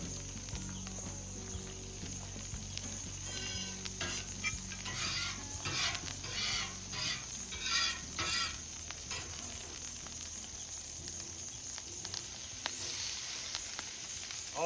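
Potatoes sizzling on a homemade outdoor grill, a steady frying hiss with occasional scraping and clinking of a utensil, moderately close and continuous.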